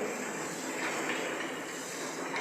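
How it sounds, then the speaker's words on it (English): About a cup of rice sautéed in a pan with butter and mushrooms, a steady, even hiss of frying that holds level and fairly quiet for the whole moment, with no talking. "I am taking around 1 cup. So I am nicely sauteing it."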